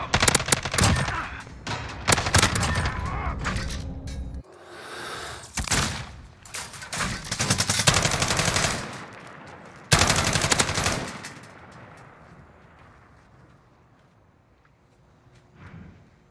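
Rapid automatic gunfire rattles in dense bursts from a tactical first-person shooter match, loud and close, then breaks into separate sharp shots and fades to quieter distant pops with no talking.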